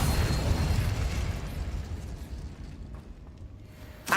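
A fire spell bursts in Hogwarts Legacy with a loud, low rumbling blast that slowly fades over a few seconds, ending in a sharp pop.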